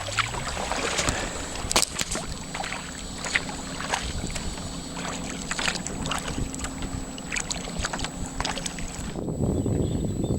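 A small boat motors across the water just off the jetty at Brodick on Arran, its engine a steady drone mixed with wind buffeting the microphone and the slap of water.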